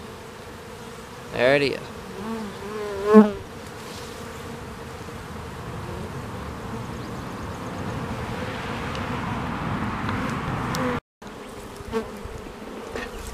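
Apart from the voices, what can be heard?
buzzing swarm of bees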